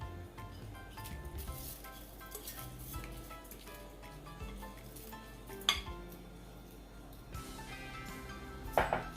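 Jasmine rice being stirred in a pot of liquid for coconut yellow rice, a steady scraping and light clinking of a utensil against the pot with a few sharper knocks, close and moderately quiet.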